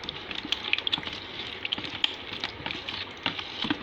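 Water is poured and stirred into ethanol while hand sanitizer is mixed, giving faint liquid splashes and small clinks in quick, irregular bursts, close by and quiet, with no speech.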